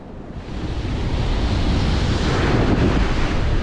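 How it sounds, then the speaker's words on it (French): Strong wind blows across a fishing spot by the water, roaring steadily into the microphone as a dense, continuous rush with waves washing underneath, loud and unbroken throughout. "c'est la première fois que vu que ce vent est gênant"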